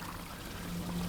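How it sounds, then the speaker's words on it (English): Pool water gushes and trickles into a bucket dipped below the surface, a brief steady pouring rush heard up close with no talking. "put the bucket into the water and let it fill up"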